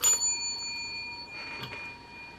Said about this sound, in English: let's get the bell back out and we'll ding the bell